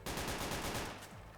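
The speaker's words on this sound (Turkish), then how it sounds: "Abi ne sıkıyorsun?" Burst of rapid gunfire in a prison roleplay video game, a dense loud volley of shots for about a second that tails off and fades, with no talking.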